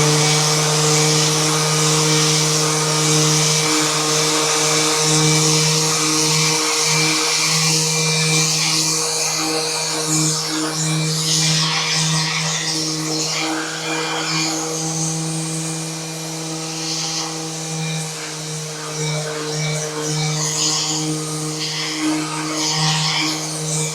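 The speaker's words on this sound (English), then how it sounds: "let's see how this machine performs in action by sanding a piece of varnished wood." Einhell TE-RS 18 Li cordless random orbital sander working over varnished wood, a steady close motor whine with a constant hum and rough scraping texture that wavers slightly as pressure shifts, running throughout without talk.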